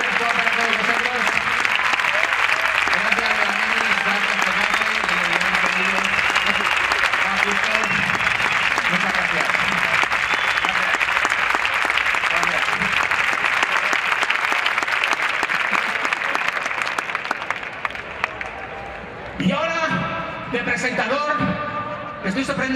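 Loud, sustained audience applause fills a comedy monologue festival during the 2021 San Nicasio fiestas in Leganés. The dense clapping carries on for nearly twenty seconds, then fades as voices and talk take over.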